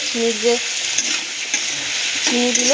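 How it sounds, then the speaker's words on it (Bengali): Onions sizzle and crackle in a hot pan with a spoon scraping as they are stirred, with steady frying hiss throughout. "পেঁয়াজগুলো এখানে আমি একটু নেড়ে নিই"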